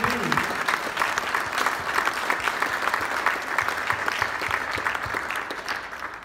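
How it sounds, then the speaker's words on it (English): Applause from the audience at the British Transplant Games Leeds 2022 launch event, a steady dense patter of many hands clapping close by that carries through the whole stretch and thins slightly at the end. "Well, that deserves a round of applause."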